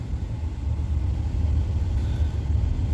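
A car on Gravity Road in Cyprus is put into gear and rolls off, its engine a low steady rumble with road noise, fairly close and no voices.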